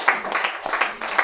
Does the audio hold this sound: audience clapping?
yes